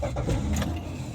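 An old Bajaj scooter's engine whines and drones steadily while riding, a loud continuous near mechanical tone with no talk.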